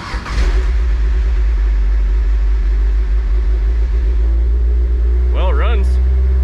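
A Mazda Miata NC with a swapped 2.5L engine on a fresh tune holds a loud, steady idle that fills the whole clip, with a brief start burst at the beginning; a voice speaks near the end.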